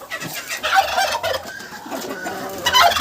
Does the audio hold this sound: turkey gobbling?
yes